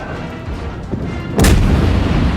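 Warship guns in the naval battle game World of Warships fire with a sudden heavy boom midway, following a rumbling low background, loud and close with a lingering roar.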